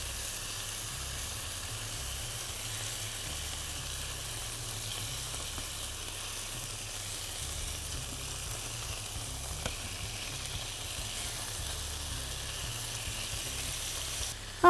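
Chicken pieces browning in a pan give a soft, steady sizzle and hiss that runs unbroken at low volume, with a faint click at the very end and no voices.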